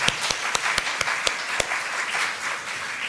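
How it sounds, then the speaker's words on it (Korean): A church congregation applauds after a piano duet, a broad steady patter of many hands with several sharper, louder claps standing out near the start, heard at moderate volume. "우리 다시 한번 크게 박수하시겠습니다."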